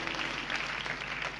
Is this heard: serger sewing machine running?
no